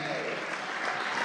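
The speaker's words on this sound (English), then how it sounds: "you should give yourself a big hand clap of all the wonderful people that are here today" Applause from the audience at an interfaith conference in the nation's capital, dense steady clapping filling the whole stretch without a break.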